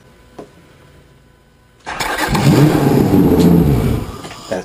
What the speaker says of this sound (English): our final test to make sure the starter works properly